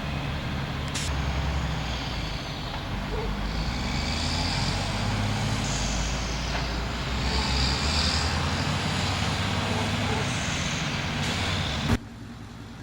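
A moving truck hauls a house onto a highway while making the turn, its heavy engine rumbling steadily and close for the whole stretch, ending in a sharp hiss like an air brake near the end.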